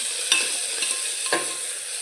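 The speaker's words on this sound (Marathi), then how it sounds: "टोमॅटो आपल्याला मऊ होईपर्यंत परतून घ्यायचं आहे" Tomatoes sautéing in a pan with onion until soft, a steady sizzle broken by a few sharp stirring scrapes of a spoon against the pan.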